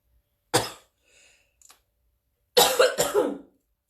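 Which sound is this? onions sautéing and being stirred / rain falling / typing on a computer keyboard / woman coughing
woman coughing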